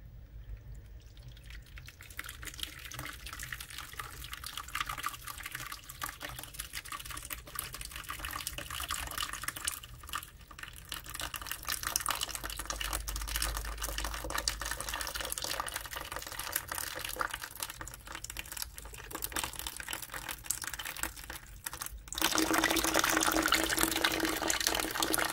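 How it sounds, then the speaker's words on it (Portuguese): Water drains steadily from the filter hose of a Brastemp Ative 10.1 kg washer-dryer (BNS10AC), a continuous close trickle and splash that grows louder and fuller near the end, with no talking. "Olha aqui, tem que retirar essa água."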